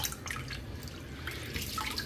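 Water drains from soaked Kerala matta red rice through a filter, a steady trickling and dripping stream that runs without a break, close and fairly quiet.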